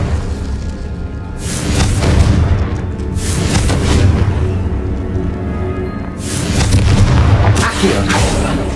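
Repeated deep booming blasts from Confringo fire spells in the Hogwarts Legacy video game, heavy rumbling explosions rolling one into another with a loud swell near the start and again toward the end.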